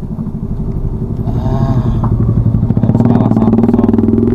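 A motorcycle engine putters nearby on a steep, rough, rocky village road in Kedungwringin, rising as it approaches alongside the low drone of a 2015 Toyota Avanza climbing in first gear.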